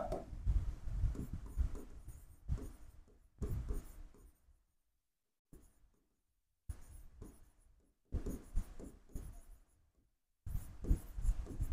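Pen writing a dated journal entry on paper at close range, in bursts of scratchy strokes separated by short silent pauses, with no talking.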